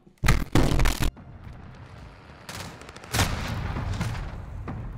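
Sharp, loud FAL rifle shots crack in Modern Warfare: a quick trio of bursts, a pause, then another heavy shot followed by echoing gunfire.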